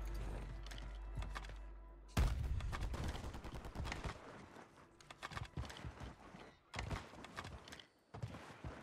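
Sniper rifles fire in the Call of Duty Warzone video game on Rebirth Island, with sharp loud shots that crack one after another in irregular bursts over a low game rumble.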